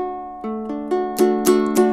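A guitar chord strummed several times, each strum ringing out cleanly and building slightly in loudness, close and alone with no voices.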